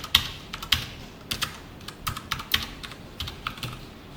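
Code being typed on a computer keyboard: close, irregular clicking keystrokes in short runs and single taps with quiet gaps between, no voices.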